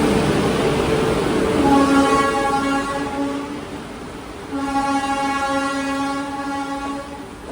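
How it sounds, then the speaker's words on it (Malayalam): The Mandovi Express, a Madgaon–Mumbai CSMT train, pulls into a station with two long, loud horn blasts, separated by a short gap, over the rumble of the approaching train. "train number 10104 Madgaon junction Mumbai CSMT Mandovi express ഇതാ കടന്നു വരികയാണ്"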